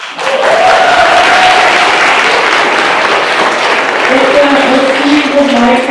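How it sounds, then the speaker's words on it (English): A loud, sustained round of applause thanks the organizing committee at the National Assembly CarNAval in Köln, with voices talking and cheering over the clapping throughout. "Let's give them a round of applause."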